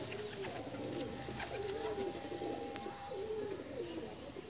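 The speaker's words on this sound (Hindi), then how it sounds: "ये दुम बांदम का कबूतर है।" A Pakistani Teddy pigeon, a fancy breed kept as a prized pair, coos in soft repeated throaty phrases, close by and fairly quiet, over light background noise with faint chirps.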